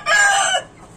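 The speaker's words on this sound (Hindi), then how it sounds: "बहुत दिनों के बाद में छोड़ा हूँ मुर्ग को, तो मैं मुर्गी के साथ" A single short, loud crow from a rooster, close by, with no other sounds around it.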